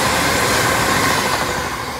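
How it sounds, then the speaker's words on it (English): A Class 380 electric train speeding past the platform at Cardonald, a loud, close, steady roar of wheels and rushing air with no voices. "We've now got a very fast 380"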